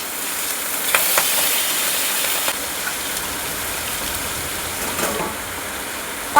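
Pangas fish head frying in hot oil under a lid, a steady soft sizzle and crackle running throughout with faint clinks, while heavy rain pours in the background.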